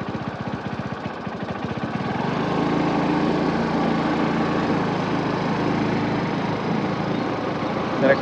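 Suzuki Access 125 scooter, which had a starting problem and a Splendor carburettor fitted, running steadily on a road test ride: a close, buzzy single-cylinder hum that picks up and holds, with no talk.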